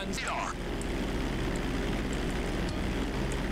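Steady propeller-plane engine drone in GTA V, a continuous low roar filling the whole stretch at an even level, with a brief whooshing sweep early on and a voice speaking over it.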